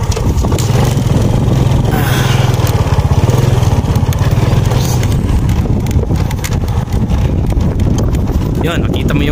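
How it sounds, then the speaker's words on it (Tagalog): A motorcycle engine drones loudly and steadily while riding near Gruto in Toledo City, with the rumble lasting the whole stretch and a voice heard briefly over it. "Pasensya na sa motor ko."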